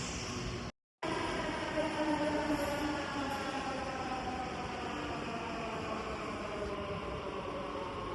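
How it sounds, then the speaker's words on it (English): A Delhi Metro train rumbles steadily into a station, with a continuous low roar and a brief dropout partway through, and no talking over it. "So metro has been arrived."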